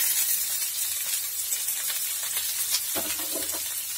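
Chopped onion frying in a pan for a moong dal and coconut curry, giving a steady close sizzle with faint scraping of a spoon near the end.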